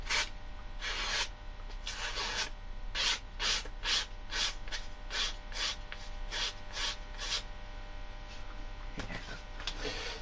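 Knife blade slicing through material in a series of repeated short rasping strokes, close and fairly quiet, over a low steady background hum.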